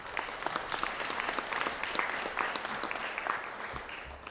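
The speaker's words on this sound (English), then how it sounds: "I ask we give Sinead a round of applause" Steady applause fills a conferring ceremony hall as a graduate is honoured, a dense, even patter of many hands at moderate volume continuing without a break.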